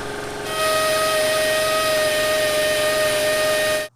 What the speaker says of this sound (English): right in the center here, I'm going to go ahead and use my Astro belt sander